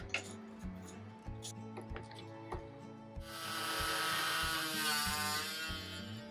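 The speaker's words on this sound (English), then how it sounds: "I used my multi-tool to cut off most of the wood" A multi-tool buzzes against wood glued into a rocking chair, starting with short intermittent bursts and then settling into a sustained harsh cutting whine.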